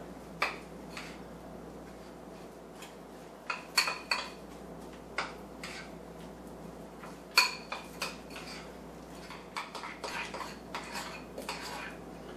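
Softened butter is worked into low-carb doughnut batter in a bowl. A utensil gives quiet, irregular clacks and knocks against the bowl, with bursts of taps spread across the stretch.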